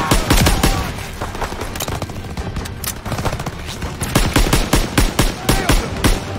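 Heavy gunfire in a World War II battle in Call of Duty: WW2, dense rapid rifle and machine-gun shots cracking continuously and loudly throughout.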